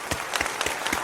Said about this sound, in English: Here's your clap.